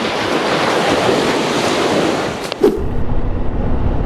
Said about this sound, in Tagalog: makikinig muna ako dito sa tabing dagat